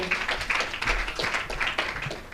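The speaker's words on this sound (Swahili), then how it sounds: "Naomba makofi mengi kwake." An audience at a business SDG awards ceremony claps for the award presenter: steady, close applause lasting a couple of seconds, with rapid overlapping hand claps.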